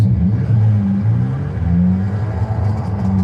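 Engine of a tuner car cruising in the racing game Forza Horizon 5, a steady low droning hum with gentle rises and dips in pitch, no talking.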